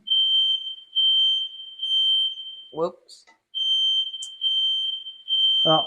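A kitchen smoke alarm shrills in a loud, steady high beep that repeats in long bursts while chicken marsala with mushrooms cooks, pausing briefly as a person speaks a short word before it resumes.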